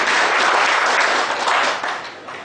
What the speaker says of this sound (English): Big round of applause, sir, ladies and gentlemen.